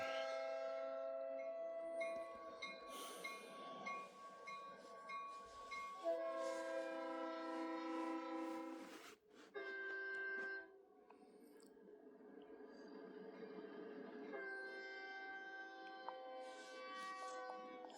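A train rolls past with sustained horn-like tones and shifting pitches, loud at first, then easing off while the rumble continues.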